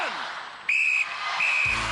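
A referee's whistle at a 1994 Gladiators UK event, two sharp shrill blasts, the first longer than the second, ringing out over a noisy arena crowd.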